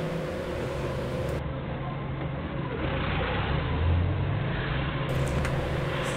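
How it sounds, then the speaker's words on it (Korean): Vehicles pass steadily along a busy road where a forklift waits to reverse, making a continuous engine rumble and whoosh that swells a little toward the middle, moderately distant. "진짜 끊임없이 차가 와갖고 어떻게 후진을 할 수가 없네요."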